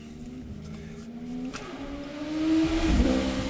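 A motorbike engine drones steadily and grows louder as it passes close by, its pitch shifting near the end, with no talking over it.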